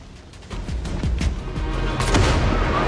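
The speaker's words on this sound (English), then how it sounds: "Oh, wow, explosions." Explosions and gunfire in the Far Cry 6 video game: a run of loud booms and blasts that thickens and gets heavier past the halfway point, with sharp bursts scattered over a steady battle rumble.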